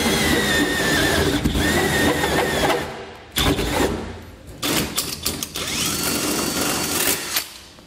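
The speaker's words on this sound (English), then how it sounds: "we're going to use our 4-inch hole saw here" A 4-inch hole saw bores through the bed of a 2020 Toyota Tundra pickup, a loud, steady grinding drill roar that cuts out briefly twice before resuming.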